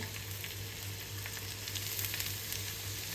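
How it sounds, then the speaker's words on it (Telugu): Finely chopped vegetables with a little salt sizzle steadily in hot oil in a pan, a close, even frying hiss with occasional soft pops and no talk. "నూనె వేడెక్కిన తర్వాత సన్నగా తరిగి పెట్టుకున్న కూరగాయలను కొద్దిగా ఉప్పు వేసి మగ్గించుకోవాలి."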